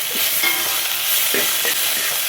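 Vegetables for semiya upma fry over a high flame in a pan, a steady dense sizzle running throughout with occasional soft stirring scrapes and clinks.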